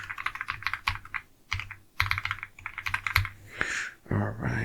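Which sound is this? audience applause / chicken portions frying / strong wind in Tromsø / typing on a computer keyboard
typing on a computer keyboard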